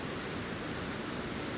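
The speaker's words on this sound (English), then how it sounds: "I'll be listening to the whole night if you can hear the water" Steady rushing of water flowing just outside a house at night, a continuous broadband hiss with no breaks, moderately quiet and unaccompanied by voices.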